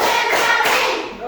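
Children in an elementary classroom clap their hands together in a steady rhythm, a loud, close burst of claps that fades out near the end.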